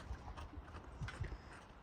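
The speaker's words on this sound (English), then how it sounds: "I'm just letting the horses out. And they are feeling frisky." Frisky horses being let out on a farm, hooves clip-clopping in a loose, uneven rhythm, faint and at a moderate distance over quiet outdoor background.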